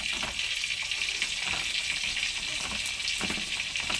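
Potatoes and chili fry in a pan with a bright, dense sizzle throughout, punctuated by a few stirring scrapes, close and fairly loud with no talk.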